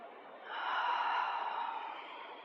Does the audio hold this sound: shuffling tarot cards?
no